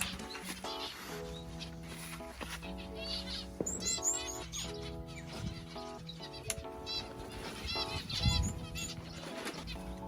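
Gamefowl breeding birds flapping their wings amid chicken calls and crowing, with repeated wing bursts close by over a busy backyard background.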